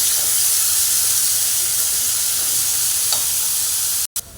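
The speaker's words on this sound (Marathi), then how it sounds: "आता आपण याच्यामध्ये कांदा घालून घेऊया बारीक चिरलेला आणि टॅमॅटो घालून घेऊया. आणि छान परतून घेऊया." Finely chopped onion and tomato sautéing in a pan for a Konkani-style crab curry, a loud continuous hissing sizzle that stays even before cutting off briefly near the end.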